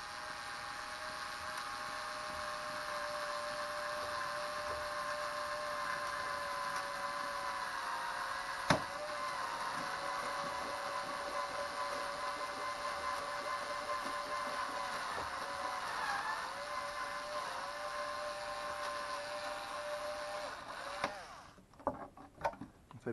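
A drill whines steadily as it bores holes at pre-drilled spots, holding a sustained motor drone with a slight pitch dip midway. The whine stops near the end and a few handling clicks follow, with no talking.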